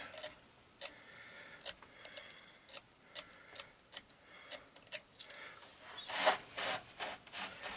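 A Honda ATC 200ES starter part is scraped carefully by hand, giving quiet, close, rhythmic rasping strokes spaced about a second apart, then a slightly longer, louder burst near the end.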